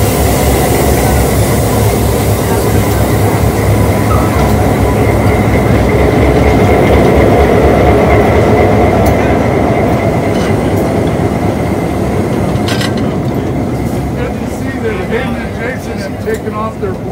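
A heavy train hauled by 1500-horsepower diesel locomotives rumbles past at close range, loud and continuous with rhythmic clatter from the cars, easing slightly toward the end.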